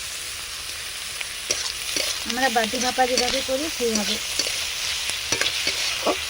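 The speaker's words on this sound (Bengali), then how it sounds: "হালকা হালকা পেঁয়াজের সঙ্গে চিংড়ি মাছগুলো ভাজা হয়ে যাবে" Prawns frying with sliced onion in a pan, a steady sizzle with scraping stirs, while someone talks over it in the middle of the clip.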